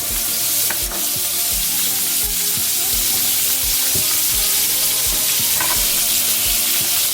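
Butter and margarine fry and sizzle steadily in a pan at close range while a utensil stirs them in repeated low scraping strokes, with no voices.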